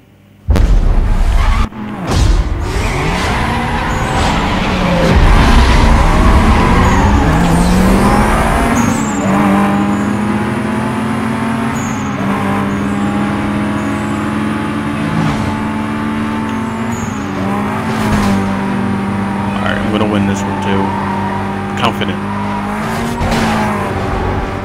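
Roaring race car engines in a Need For Speed Most Wanted circuit race, loud revving and gear changes with rising and falling pitch, tire squeals and a sudden crash-like boom near the start, continuous and close.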